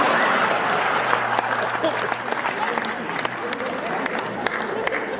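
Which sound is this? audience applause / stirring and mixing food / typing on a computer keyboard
audience applause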